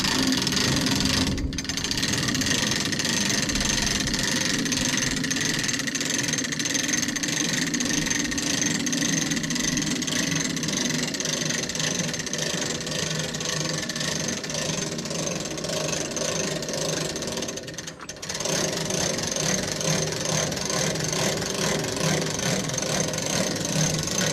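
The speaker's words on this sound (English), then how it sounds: "so I'll raise the boom" A yard trailer's boom rises under a steady mid-pitched engine or hydraulic drone that runs loud and unbroken, with two brief dips near the start and toward the end and no talking.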